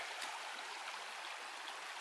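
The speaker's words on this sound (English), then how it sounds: "Listen to that sound of the water." Water flowing in a Kentucky creek: a steady, even rushing hiss of the current, constant and fairly close, with no voices over it.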